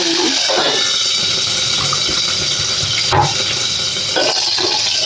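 Curry leaves spluttering in hot oil in a pan, a loud steady crackling sizzle with a few sharper pops and bursts, close up and continuous without talk.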